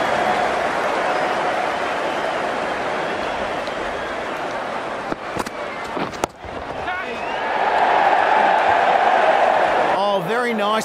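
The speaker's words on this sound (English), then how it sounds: "The crowd's on their feet." A crowd roars and cheers in Ashes Cricket after a square drive goes for four, a broad steady wash of noise that swells louder toward the end, with commentary voices over it.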